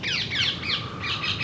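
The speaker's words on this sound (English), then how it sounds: "Fucking tropical birds." Tropical birds squawk and chirp in repeated harsh bursts across a garden, loud and fairly close over a steady background hum, with no voices.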